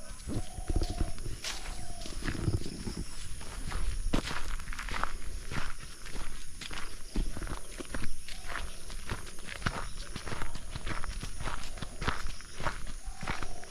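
Footsteps crunch along a forest safari track in the Dooars during the rainy season, a steady walking rhythm of close, distinct steps with faint outdoor background noise and a few brief chirps.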